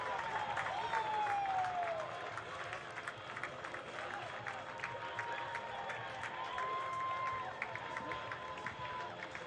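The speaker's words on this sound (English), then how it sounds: "he's got the home crowd on their feet" Home crowd at a New York Red Bulls II vs Charlotte Independence soccer match roars after a first-half goal, a steady wash of cheering and applause filling the stadium throughout, with faint whistles and voices mixed in.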